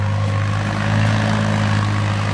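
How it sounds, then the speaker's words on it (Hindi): A tractor runs in a wheat field, its engine giving a steady, droning hum with a low throbbing tone that holds constant throughout, with no talking. "वो ट्रैक्टर लाग रहा है"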